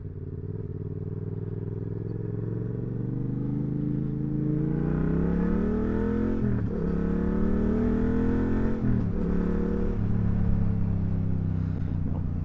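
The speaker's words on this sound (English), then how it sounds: "Like that, it just pulls. The bike just pulls." A 700cc motorcycle restricted for an A2 licence revs up hard and pulls strongly, its loud engine note climbing in pitch through two gear changes, recorded close and steady with no talking.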